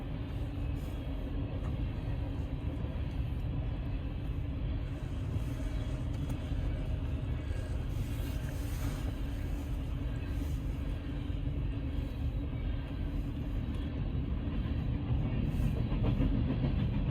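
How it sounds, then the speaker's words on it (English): A BNSF grain train rolls steadily past a railroad crossing at Benton City, Washington, led by two locomotives, giving a loud continuous low rumble and wheel noise with no talk. "We're at one of the railroad crossings to catch this BNSF grain train."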